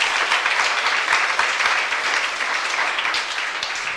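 A church youth-service congregation claps together during a sermon: steady, dense applause that fills the room evenly for several seconds without a break, with no voice on top.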